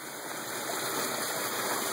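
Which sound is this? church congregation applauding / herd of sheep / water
water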